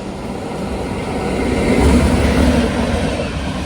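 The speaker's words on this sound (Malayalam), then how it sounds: "ഇവിടെ വേറൊരു ട്രെയിൻ കടന്നു പോകുന്നുണ്ട്, അതിൻ്റെ ഹോണടിയാണ്." A passing train rumbles loudly at a railway station platform, its roar swelling toward the middle and then easing off; no distinct horn blast stands out above the steady noise.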